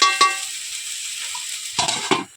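Water spinach (kalmi shak) fries in a pan with a steady, bright sizzle, broken by a few sharp scrapes and clinks of a spatula stirring the greens against the metal.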